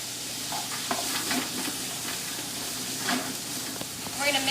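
Bacon grease, salt and pepper are stirred in a soup pot for homemade potato soup, giving a steady close sizzle with scraping spoon strokes against the metal throughout.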